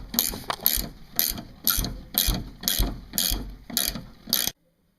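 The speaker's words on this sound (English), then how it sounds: "go ahead and start cranking on the end here. And let the pulley puller do its job. It'll pull the pulley clean off" Pulley puller cranked by hand to pull a pulley off a Toyota 5EFE engine, giving about ten loud, evenly spaced ratcheting clicks close by, then abrupt silence.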